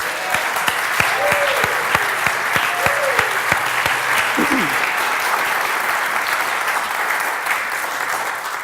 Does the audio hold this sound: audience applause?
yes